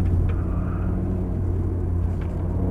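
Car cruising on a road, a steady low engine rumble and tire noise heard from inside, continuous and fairly loud with no pauses.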